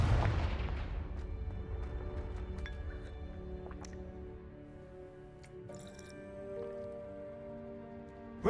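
Confringo fire spell in a Hogwarts video game, a single heavy explosive boom at the start that decays into a long rumbling tail with faint crackles and chimes.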